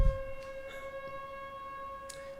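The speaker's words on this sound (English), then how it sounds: "I guess they're testing the sirens" A steady, sustained outdoor warning siren tone, sounding as a test, holds a constant pitch throughout, carrying from a distance outdoors with faint background noise and no voices.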